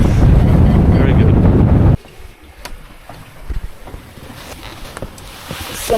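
Wind at sea aboard a sailboat, heavy buffeting gusts roaring against the microphone for about two seconds, then dropping to a quiet background of faint water and creaks.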